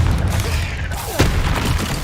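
The Confringo fire spell goes off in the video game Hogwarts Legacy as a loud, booming blast with a deep rumbling impact and a sharp crack partway through, amid game sounds.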